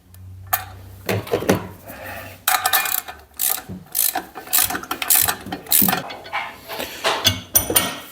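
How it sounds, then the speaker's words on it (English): A ratchet with a 17 mm deep socket tightens a nut on a suspension bolt while coilovers are fitted to a Mercedes SLK 230 AMG, producing close, repeated bursts of rapid metallic clicking with short pauses between strokes. "I need 17 mil deep socket"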